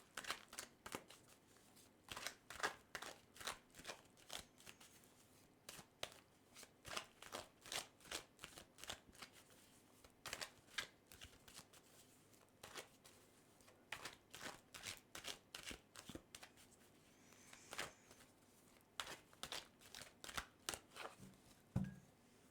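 Tarot cards shuffled over and over in quick riffling bursts, up close and quiet, with brief pauses between rounds and no talking.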